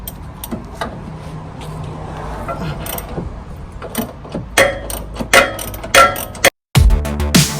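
A ratchet loosens car subframe cradle bolts, with rapid light clicking and metallic clanks close by, growing sharper and louder toward the end after a brief silent gap.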